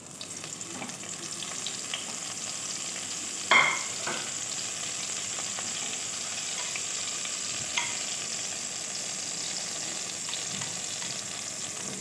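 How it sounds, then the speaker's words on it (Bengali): Brinjal pieces fry one after another in a little oil, giving a steady, fairly quiet sizzle. One sharp clatter of a utensil cuts through partway, and another light knock follows later. "একে একে বেগুনগুলো এবার ভেজে নেব"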